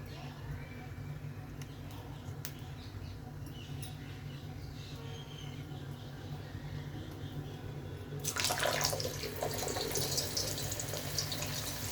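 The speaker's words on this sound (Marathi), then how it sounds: "आता मी तुम्हाला तळताना दाखवते." Bhatura deep-frying in hot oil for dhaba-style chole bhature, a steady sizzle that bursts into a louder, bright hiss near the end as the dough hits the oil, heard alone without talk.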